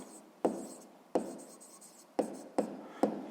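Pen strokes writing out an equation by hand for a sixth-grade maths exercise: a series of short scratchy bursts, each with a sharp onset, close and fairly quiet, with no talk.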